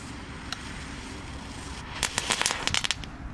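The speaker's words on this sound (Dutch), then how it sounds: "Hebben we die kartonnen knetterballen nog?" Cardboard crackle ball fireworks go off in a quick, dense burst of sharp crackling pops after a few isolated snaps, heard outdoors over a steady background hiss.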